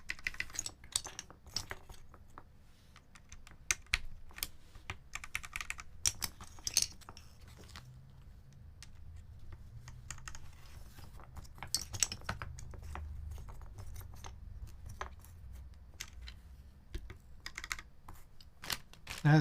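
Typing on a Duck Viper V3 mechanical keyboard with stabilized keys: irregular bursts of sharp keystroke clicks and clacks throughout, fairly close and moderately loud, with a low background hum and no speech.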